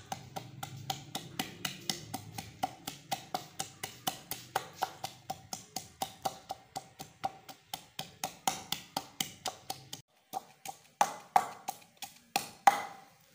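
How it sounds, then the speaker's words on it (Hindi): Garlic, ginger and green chillies are pounded in a mortar, a steady series of sharp, close knocks repeating about three times per second, turning sparser and harder toward the end. "इसको पहले लहसुन अदरक को और सबज मिर्च को पीस लेंगे।"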